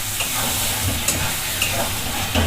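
Spinach and chicken masala with turmeric and salt fries in a pan while being stirred, a loud continuous sizzle broken by spoon scrapes and clinks throughout.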